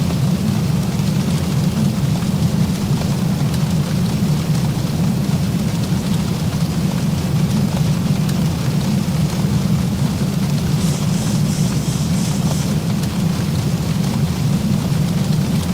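Rain drums on the cockpit windscreen of an airliner in the X-Plane 12 flight simulator, a loud, continuous rumbling wash over a low steady engine drone, with a short brighter patter partway through and no talking.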